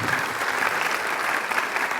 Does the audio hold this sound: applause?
yes